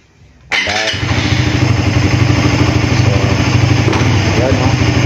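A Raider Fi 150 motorcycle, just after an ECU reset, starts abruptly and settles into a loud, close, steady engine run with a slight rev near the end, while someone talks over it.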